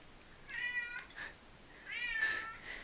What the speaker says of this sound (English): Ignore my cat in the background. He's just meowing.